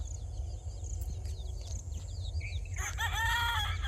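Chickens with a rooster and small chicks at a rural home, clucking and chirping nearby with a loud rooster crow near the end over low background hum.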